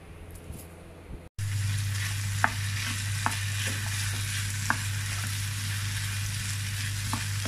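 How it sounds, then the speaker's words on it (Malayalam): Chopped capsicum sautéed with cooked chicken in a pan, a steady close sizzle and fry hiss with occasional light clicks of a stirring utensil, after a brief quieter start. "ഇനി ഇതിലേക്ക് 1 ക്യാപ്സിക്കത്തിൻ്റെ പകുതി ചെറുതായി മുറിച്ചത് ഇട്ടിട്ട് ഒന്ന് വഴറ്റി കൊടുക്കാം."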